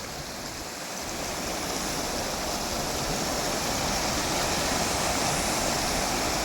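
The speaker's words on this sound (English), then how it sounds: "This was a very little teeny Nallah, but right now it seems like a river." A small stream swollen into a river-like flood rushes beneath a dilapidated, damaged bridge in the Puroik Colony of Naharlagun, a loud, dense, continuous roar of churning water close by.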